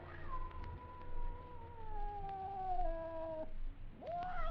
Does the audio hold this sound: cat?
yes